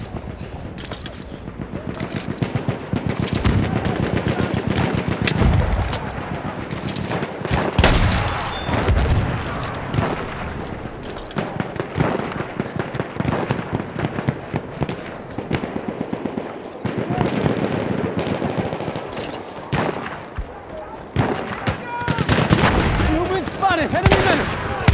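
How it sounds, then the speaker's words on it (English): Machine gun fire in the Battlefield 1 video game on the Argonne Forest map, with dense continuous gunfire and booming explosions throughout and voices shouting over the battle. "machine gun!"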